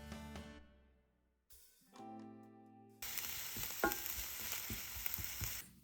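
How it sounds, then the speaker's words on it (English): Stuffed potato cakes start frying in a pan, a bright steady sizzle that rises after a few seconds of quieter tonal sound and carries on loud and close with small pops. "I'm going to fry this now for a little bit in a pan"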